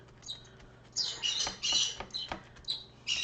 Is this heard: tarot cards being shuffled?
no